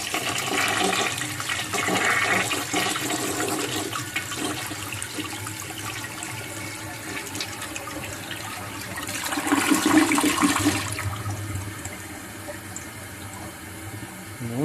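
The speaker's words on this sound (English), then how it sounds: "So here's another flush." A 1958 Canadian Standard Cadet toilet flushes close by, a loud rushing swirl of water that surges again midway and then settles into a quieter refill trickle, with no talking.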